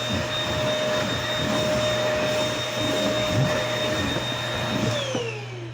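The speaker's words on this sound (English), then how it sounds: "Always keep a vacuum to clean up any metal dust for after you're done with it." A vacuum cleaner runs steadily and close for the whole stretch, sucking up metal dust from grinding a hedge-clipper blade into a knife, its whine holding a fixed pitch before it winds down at the end.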